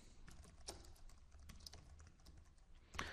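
Keys clatter steadily on a computer keyboard, quiet and close, with the soft taps repeating through the whole stretch and no talking over them.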